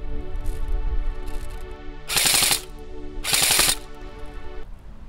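A suppressed M4A1 CQB electric blowback airsoft rifle, shooting at around 350 FPS, fires two close, loud bursts of rapid rattling shots with short pauses between them.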